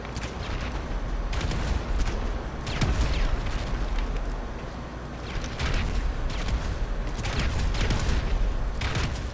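Repeated bursts of automatic gunfire in GTA V on PS5 crackle through a dense, noisy game mix, with several loud volleys spread across the stretch and no voices on top.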